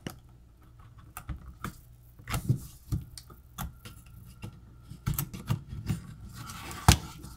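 The keyboard of an HP EliteBook 8440P laptop is lifted out, giving scattered light plastic clicks and taps with quiet pauses, near and faint, with no talking.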